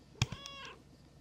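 Single cat meow from a video game character, short and fairly clear with a sharp onset, standing alone without talk.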